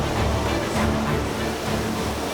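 Rough sea and strong downwash from a rotor aircraft during air-sea rescue training make a dense, steady roar of wind and surging water, loud and unbroken throughout, with no voices.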